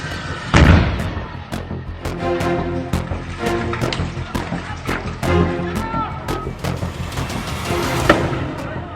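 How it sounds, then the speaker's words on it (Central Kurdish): A car explodes from a gas system fault: sharp, loud blasts crack out one after another over a roaring fire, with a heavy boom near the start and another near the end. "ئەمە چەند دیمەنێکی ڕاستەقینەی تەقینەوەی ئۆتۆمبیلە بەهۆی کەم و کوڕی لە سیستمی غاز"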